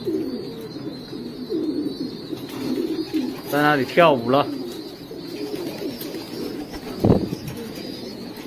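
Racing pigeons coo in a close, rhythmic burst of throaty calls, with softer cooing scattered around it while a person talks over them.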